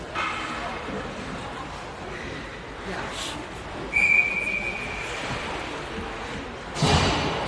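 A referee's whistle shrills once for about a second at a girls' U13 ice hockey game against the BC Capitals, cutting through steady rink noise and a commentator's voice, followed later by a dull thud.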